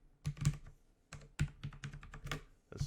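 Rapid keystrokes on a computer keyboard come in short uneven bursts with brief pauses, close and fairly quiet, with no talking over them.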